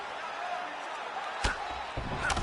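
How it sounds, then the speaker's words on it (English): Sharp thuds of elbow strikes landing in the UFC 5 fighting game, two quick impacts a half second apart over a steady roar of crowd noise. "Oh, lands a flush elbow."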